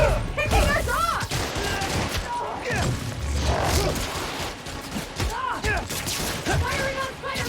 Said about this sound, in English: Firing on Spiderman!